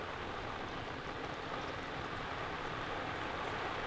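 Rain falling at a farm, a steady, dense hiss of drops on surfaces that stays constant and fairly soft throughout, with no voices.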